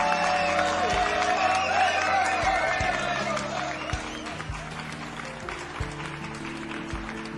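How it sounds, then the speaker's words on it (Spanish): A canned applause effect plays during a Saint Seiya Awakening game stream, a steady, moderately loud clapping texture over a looping musical backing that gradually eases off. "doble aplauso porque fueron dos suscripciones"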